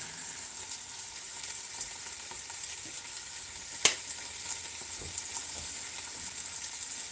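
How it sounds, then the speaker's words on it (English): Carrots, sayote and cabbage stir-fry in a pan with a soft, steady sizzle and hiss, broken by one sharp clatter of a utensil and a few faint scraping stirs. "I'm going to stir fry this one"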